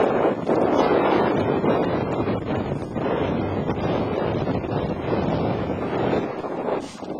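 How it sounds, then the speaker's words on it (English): Strong wind roars outdoors in snow, buffeting the microphone continuously with broadband rumble and gusts over the whole stretch, loud and close, with no talking. "It's very, very windy."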